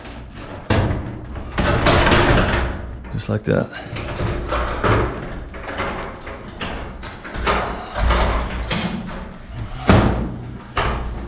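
Garage door panels are pivoted onto their rollers during installation, giving several heavy thumps and rattling clunks spread across the stretch while someone talks over them.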